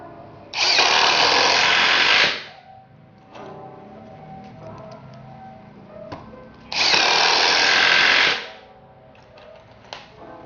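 A Nagawa NID213K 2.0 impact driver runs in two loud, steady bursts of about two seconds each, separated by quieter clicks and handling noise, close up with no speech.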